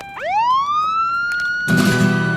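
A police siren sound effect swoops up sharply into a loud, high wail and holds, then a harsher, buzzier siren tone cuts in near the end, close and alone.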